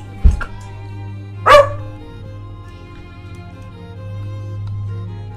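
A pet dog indoors gives two sharp, loud barks about a second apart, then falls quiet over a low steady background hum.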